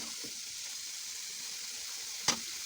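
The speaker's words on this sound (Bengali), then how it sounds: "এখানে হচ্ছে আমরা মশলাটাকে কষিয়ে নিচ্ছি।" Spice paste being sautéed in a pan, a soft steady sizzle at low level with one sharp scrape or clink near the end.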